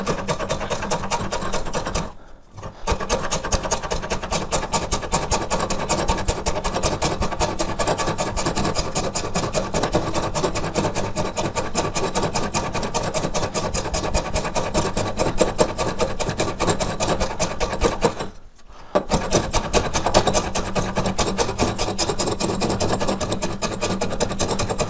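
Hand plane working wood, a dense run of rapid, rhythmic rasping strokes that continues steadily and closely, broken by two short pauses, with no talking.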